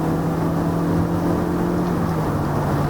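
A 2021 Toyota C-HR accelerating in third gear after a downshift, its engine holding a steady droning hum with tonal whine, continuous and fairly loud throughout with no talk.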